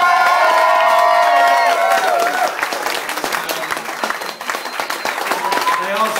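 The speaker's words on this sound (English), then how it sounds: "Round of applause for..." Loud audience applause fills the whole stretch, dense steady clapping mixed with cheers and whoops from a crowd at a live music performance.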